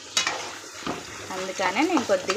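Dried red chilies fry in tempering oil with a steady close sizzle and stirring clatter, while a voice speaks over the second half.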